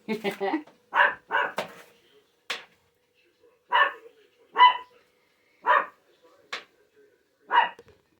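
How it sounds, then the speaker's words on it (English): A dog barks in short separate bursts, about nine sharp barks spread out with pauses between, moderately close in a home kitchen, with no talking. "There's my dog. I'm sure you heard her that time."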